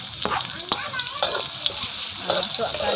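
Ingredients hit hot cooking oil and crackle into a dense, loud sizzle with stirring scrapes, close up, for preparing fried cassava shoots with anchovies.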